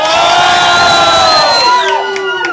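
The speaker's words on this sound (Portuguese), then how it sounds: "Vamos fazer barulho aqui pra Nick." Loud crowd at a Brazilian street rap battle, Batalha do Vinho, roaring and cheering in a dense sustained wall of voices with whoops, easing slightly toward the end.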